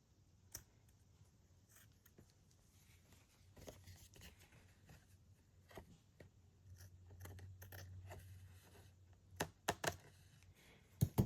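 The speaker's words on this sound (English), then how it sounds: "So then I go in and I just trim the excess" Scissors trimming excess paper on a handmade journal topper, quiet scattered snips with a few sharper, louder cuts near the end.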